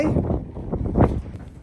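Gusty wind buffets the microphone at an outdoor horse show, low rumbling rushes rising and falling over a short stretch.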